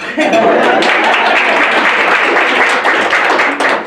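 Loud, steady audience applause at a college leadership talk on women of color in the nonprofit sector, sustained and close for several seconds.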